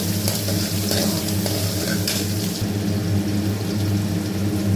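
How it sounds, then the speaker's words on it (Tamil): Chopped shallots sautéing in a pan for a coconut rock fish curry, giving a loud, steady frying hiss with a low hum underneath and occasional stirring scrapes, with no talk. "சின்ன வெங்காயம் ஒரு நூறு கிராம் போட்டிருக்கேன் அதையும் அரிஞ்சு வச்சுருக்கேன் அதை நல்லா வதக்கிட்டு நல்லா வதக்கிக்கலாம்"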